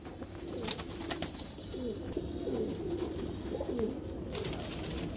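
Several pigeons coo in repeated low, rolling calls, close by, with scattered wing flutters and clicks in the background.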